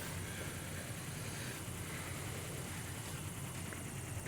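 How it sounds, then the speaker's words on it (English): A Cypher surveillance drone hovers in Metal Gear Solid 2, a steady droning whir with a buzzing rotor tone holding constant throughout, loud and close with no talk. "Cypher drones."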